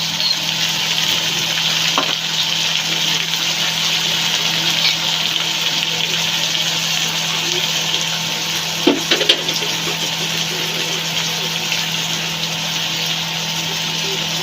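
Shrimp and ground spice paste frying in a pan for a dish of taro stolons with shrimp, giving a steady, close sizzle with a faint hum beneath and a couple of brief clinks of stirring.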